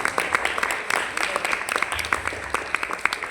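Applause from an audience at a cultural meditation event, a dense patter of clapping over about three seconds with scattered louder claps and some murmuring voices mixed in.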